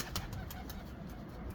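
Pigeons coo softly in a loft over a steady background hum, with repeated low throaty calls and a few faint chirps across a short stretch.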